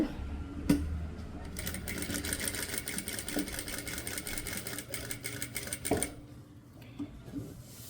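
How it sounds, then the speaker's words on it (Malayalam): A sewing machine stitches a heavy stone-work neckline, running in a fast, even mechanical rattle for several seconds before slowing and stopping, with scattered clicks and a voice in the background. "കണ്ടോ ഇങ്ങനെ സ്റ്റിച്ച് ചെയ്തെടുക്കുക"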